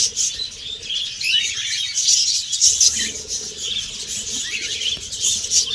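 Budgerigars chirp and twitter in a cage, a busy high-pitched chatter of many birds running steadily throughout, fairly close, with occasional fluttering and low background noise.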